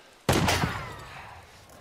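A single loud gunshot from an enemy in the video game Days Gone, a sharp crack followed by a second quick report and a long echoing decay in an outdoor forest setting.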